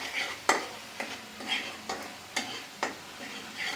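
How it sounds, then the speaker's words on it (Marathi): Masala for paneer butter masala fries in oil in a pan, a close steady sizzle broken by repeated scraping stirs roughly every half second to second, with no talking. "ते बघा असं फ्राय चांगलं तेल सुटत झाला."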